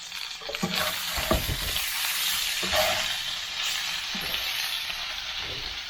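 Onions sizzle and fry steadily in oil in a pan, with intermittent scraping and clattering as they are stirred.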